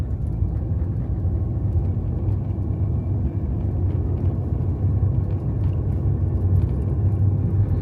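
A car drives along small-town roads, giving a steady low engine and road rumble from inside the cabin as it makes a turn, with no other sounds standing out.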